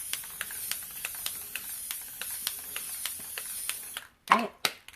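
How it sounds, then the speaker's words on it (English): Crystal Clear Enamel spray hisses from an aerosol can over a waterslide image in quick, repeated pulses, a steady close hiss punctuated by regular clicks, then breaking off into a few sharper bursts after a brief pause. "So that was the Crystal Clear Enamel Spray"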